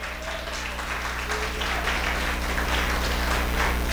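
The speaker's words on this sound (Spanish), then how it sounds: "Denle un fuerte aplauso al Señor." A church congregation applauds steadily, a dense, even wash of clapping that fills the whole stretch without any voice over it.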